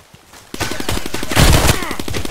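Rapid, loud gunfire from the online shooter game Contract Wars bursts in after a quiet start. The shots form a fast, dense rattle of evenly spaced reports that carries on to the end.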